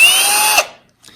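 A cordless drill whines at high speed for about half a second, then spins down and stops, followed by a faint brief noise.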